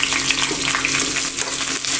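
Curry leaves and green chillies sizzle in hot oil as a tempering for a Malabar-style fish curry, a loud, dense, continuous crackle close up with no talking.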